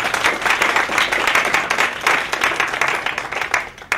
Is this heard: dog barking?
no